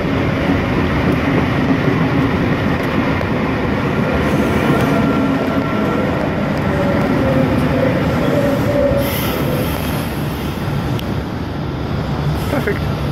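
V14 set passenger train pulling into Tuggerah station, a steady loud rumble of wheels and carriages rolling close by with faint squeals, sustained throughout.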